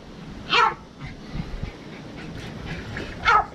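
Dog giving two sharp barks a few seconds apart, close and fairly loud, with quieter rustling and movement in between.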